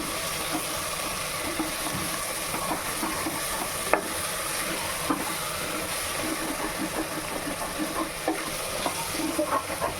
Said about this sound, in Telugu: ఇక్కడ కలుపుకుందాము